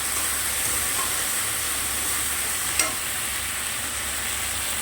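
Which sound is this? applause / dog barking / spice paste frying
spice paste frying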